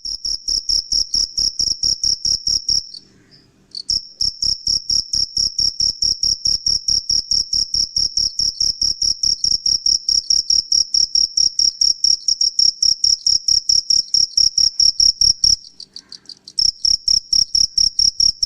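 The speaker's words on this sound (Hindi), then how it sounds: "यही झीं की आवाज लेखक को झंकार के समान लगती है और वह इसे झींगुर की झंकार कहता है।" A cricket chirps in a fast, steady pulsing trill, loud and close, sounding almost continuously with only two short pauses and no voices.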